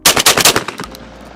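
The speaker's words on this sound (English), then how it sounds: "let's see how this gun cycles" Benelli Montefeltro inertia-operated shotgun fires a rapid string of about four loud, close shots in under a second, each blast cracking sharply before a quick mechanical clack and a fading tail.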